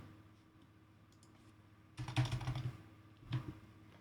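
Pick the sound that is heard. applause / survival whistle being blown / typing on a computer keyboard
typing on a computer keyboard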